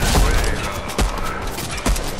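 Gunfire from bots fighting in the Apex Legends video game rattles as dense, continuous shooting with a few louder bursts, fairly close and without talk.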